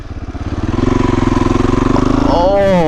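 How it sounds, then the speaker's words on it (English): A VW Jetta TDI diesel converted into a truck runs close by with a pulsing, throbbing idle that builds slightly, while someone speaks over it toward the end. "It's a TDI Jetta truck."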